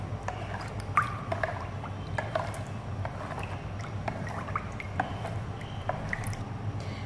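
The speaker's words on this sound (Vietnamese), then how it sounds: "Mình cho một thìa canh muối trắng vào cùng và khuấy đều cho muối tan ra." A tablespoon of white salt is stirred into a basin of water: faint, soft sloshing and scattered small drips over a low steady hum, with no voices.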